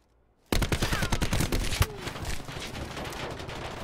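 Rapid automatic gunfire from the video game Black Ops 4, heard in a 2v2 search-and-destroy match on the Firing Range map. A loud, dense burst of shots starts abruptly, with a sharper crack partway through, then fades into a steady, busy in-game din.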